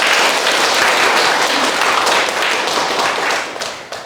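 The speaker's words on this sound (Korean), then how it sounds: "박수 한번 부탁드립니다." An indoor audience at a lecture applauds, dense continuous clapping from many hands, close and loud, that fades slightly toward the end.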